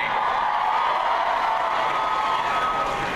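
A large Comic-Con crowd at a Doctor Who panel cheers and shouts in a steady, dense roar that holds at a constant level throughout, with scattered whoops in the hall.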